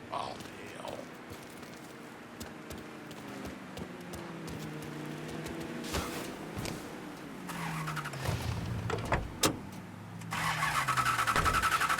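A car engine starts up in Mafia III, set in the late 1960s. Creaks and clunks come first, then the engine cranks and catches into a rising, wavering idle that settles as the car gets going.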